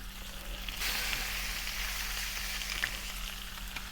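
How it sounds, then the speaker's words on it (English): Fish sizzles and crackles in hot oil, a steady bright hiss that swells as it hits the pan, with a low hum beneath. "You can hear it sizzling"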